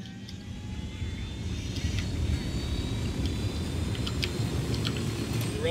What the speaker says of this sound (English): Let's use our tactical helicopter.